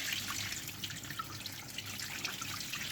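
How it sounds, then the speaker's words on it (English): Cold tap water runs and trickles over blackberries being rinsed after a salt-water soak, a quiet, steady splashing and dripping at close range with no voices. "give our blackberries a good rinse"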